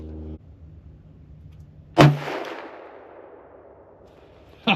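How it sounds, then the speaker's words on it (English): Two loud rifle shots from a Ruger American Ranch Gen 2 in .350 Legend, one sharp crack with a long rolling decay outdoors and a second shot arriving about three seconds later, after a quiet low hum. "Go ahead and put a little 2-shot group in here"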